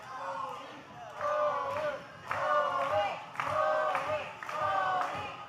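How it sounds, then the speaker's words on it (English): A wrestling crowd at an OVW show chants in a repeated rhythmic pattern, each loud call rising and falling in turn from the arena stands. "Hear those chants again from the crowd."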